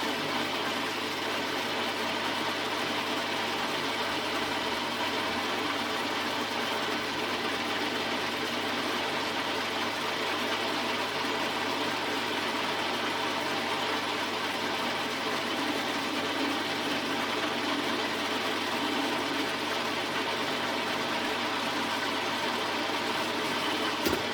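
An Imperial metal lathe turns a steel punch with a steady, faint mechanical hum and whir that holds constant throughout.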